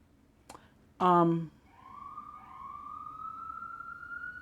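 A siren wails steadily in the distance, rising and holding its tone after a short sharp burst of noise.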